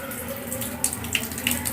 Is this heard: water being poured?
yes